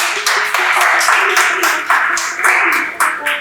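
Contest audience clapping loudly for a runner-up group, a brisk burst of claps over a few seconds with faint tonal pings and voices.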